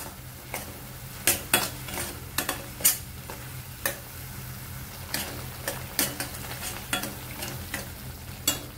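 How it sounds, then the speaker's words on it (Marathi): Onion sautéing in oil in a pan for chole masala, a soft steady sizzle with a low hum underneath, broken by repeated sharp scrapes and clinks of a spoon stirring against the pan. "पहिला कांदा छान असं तेल सुटेपर्यंत परतून घ्यायचा आपल्याला"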